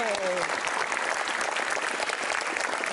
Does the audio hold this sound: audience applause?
yes